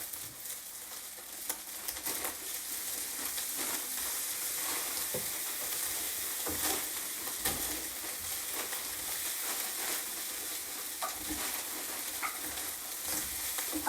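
Rice with soy sauce is stirred in a hot pan, giving a steady sizzle with soft scraping and shuffling strokes of the utensil, close and continuous with no voices.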